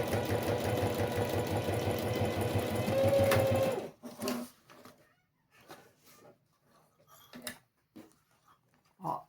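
Sewing machine running a topstitch seam at a long stitch length on a small fabric box, a steady close rhythmic whir for about four seconds, then stopping, followed by quiet handling noises and faint clicks.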